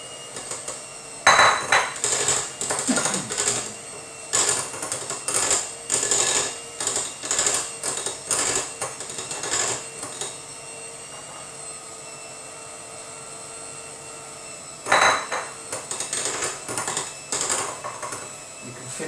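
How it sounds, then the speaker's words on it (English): Egg whites whisked by hand with caster sugar in a bowl: quick rhythmic metallic clinking bursts of the whisk against the bowl, close and bright, pausing for several seconds before resuming, with no voices. "adding the caster sugar gradually. Give a little whisk so that it melts in the edge, dissolves in the edge."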